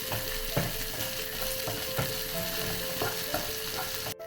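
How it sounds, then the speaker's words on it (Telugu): Green chili pieces frying for upma, a steady close sizzle with regular scraping stirs of a spatula against the pan, no voices. "పచ్చిమిరపకాయ ముక్కలు కూడా వేసుకుంటున్నామండి. ఇవి మాడిపోకుండా జాగ్రత్తగా తిప్పుకోవాలండి."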